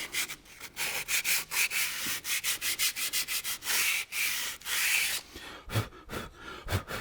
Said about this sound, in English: give them a bit of a rub with some sandpaper